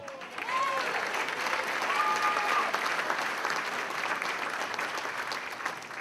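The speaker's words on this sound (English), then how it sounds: "I'd like to ask for a round of applause for my dad." A banquet crowd at a sports hall of fame induction applauds a speaker's father, a full, steady round of clapping that holds evenly for several seconds with a few faint whistles.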